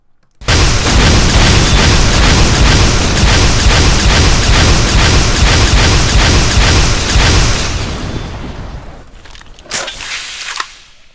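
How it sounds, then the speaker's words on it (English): Multi-rocket launcher in Garry's Mod Half-Life 2 fires a loud, dense rapid barrage of booming blasts for about seven seconds, fading into scattered later explosions and pops. "We also have the multi-rocket launcher."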